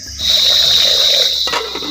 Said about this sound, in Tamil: பருப்பு வேக வைக்கிறதுக்கு மண் பாத்திரம் வச்சுக்கிறோம். தேவையான அளவு தண்ணி ஊற்றிக்கிறோம்.